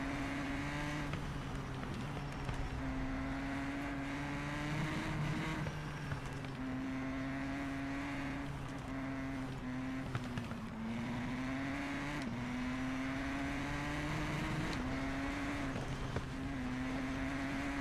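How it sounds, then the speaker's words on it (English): Motorcycle racing in TT Isle of Man 2 screams along at high revs, a loud continuous engine whine that rises and drops repeatedly with gear changes throughout, no talking. "You can hear the engine though, it's like only really gets going."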